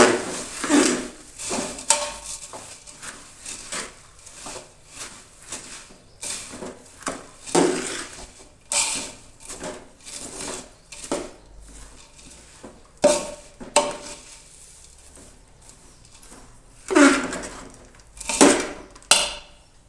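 Puffed rice laddu mixture being stirred and scraped in a pan, with a steady run of soft clinking and scraping strokes from a utensil against the metal, close up and alone with no talk.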